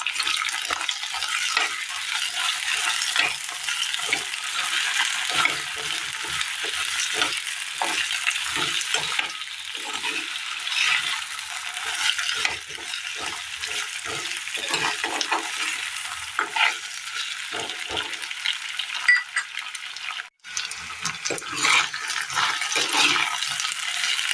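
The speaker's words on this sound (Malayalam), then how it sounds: "ഒരു 2 പച്ചമുളകും സവോളയും വെള്ളരിക്ക കഷ്ണങ്ങളും ഇട്ട് കൊടുത്ത് നന്നായി ഇളക്കാം." Green chillies, onion and cucumber pieces being stirred in a hot pan for a curry, a continuous loud hissing sizzle with frequent soft scraping strokes underneath, close by and without any voices.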